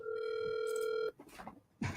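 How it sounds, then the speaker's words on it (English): A phone rings with a steady electronic tone that holds for about a second, breaks off, and starts again, sounding close and loud in a quiet room. "let's let the phone ring away from the mic until we get on the call"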